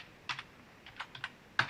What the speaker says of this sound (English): Hit down on your keyboard